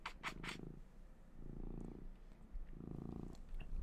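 A cat purrs close by in three slow, steady rumbling bursts, each lasting about a second with pauses between, soft and continuous under a quiet room.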